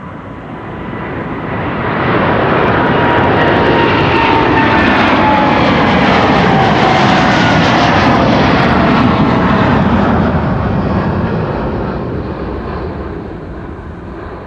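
A DHL Airbus A300-600 roars on departure at Amsterdam Schiphol Airport, its jet engines swelling into a loud, broad rush of thrust that holds steady and then slowly fades as it pulls away.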